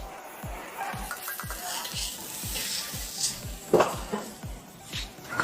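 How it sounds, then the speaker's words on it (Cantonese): Stir-frying in a very hot wok heated with peanut oil in a restaurant kitchen, a steady loud sizzle with rhythmic scraping strokes of the spatula about twice a second, with a brief clatter near the end. "花生油起鑊。"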